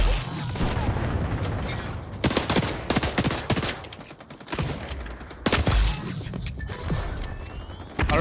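Rapid bursts of automatic gunfire from the first-person shooter XDefiant, loud and close, with dense rattling volleys and a few heavier booms spread across the whole stretch.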